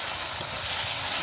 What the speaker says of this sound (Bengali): এবার দিয়ে দিলাম বেটে রাখা রসুনটাকে দিয়েও ভালো করে কষিয়ে নেব